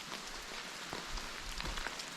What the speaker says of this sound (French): Il pleut toujours très fort.